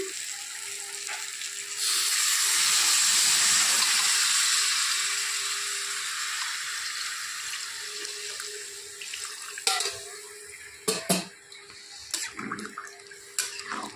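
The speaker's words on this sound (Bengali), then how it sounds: "এখন দিয়ে দিব ঝোল" Broth poured into a pan of pointed gourd cooked with Gobindobhog rice: a steady splashing pour lasting several seconds, then fading, followed by a few light clinks of a utensil against the pan.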